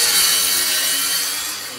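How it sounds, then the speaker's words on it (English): A Ryobi flooring saw making a cross cut gives off a loud, steady, rasping whine that holds for the whole moment and eases off slightly at the end, with no voices. "We can do cross cuts."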